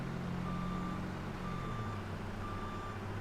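A truck in the farming game Farming Simulator 25 left in reverse gear sounds three evenly spaced backup beeps over a low, steady engine drone, with no voices.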